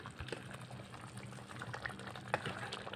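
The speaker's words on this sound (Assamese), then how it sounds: "সম্পূৰ্ণ উতলি গ'ল" Water coming to a full rolling boil in a pot for Assamese egg curry (egg dalna), a steady bubbling simmer heard close up with a few sharper pops and no talking.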